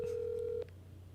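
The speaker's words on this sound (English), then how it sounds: "Come on, answer the phone," A telephone call waiting to be answered: a steady, moderately loud ringing tone over a low hum holds for about half a second, then cuts off, leaving only the faint hum.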